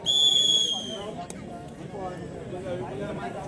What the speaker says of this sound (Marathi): दरम्यान पंचांची शिट्टी वाजते.